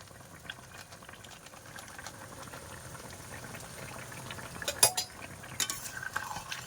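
Pangas fish curry with taro and potato bubbling in a pot, cooked in a village style: a soft, continuous boiling burble that grows slightly louder, with a few light clinks of a spoon against the pot near the end.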